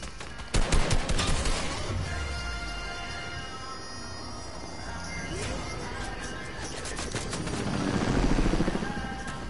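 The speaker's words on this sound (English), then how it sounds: "My boy's shooting." Video game gunfire: rapid automatic bursts crackle loudly at the start and again midway, then fade under a swelling rotor-like roar, with brief speech in between.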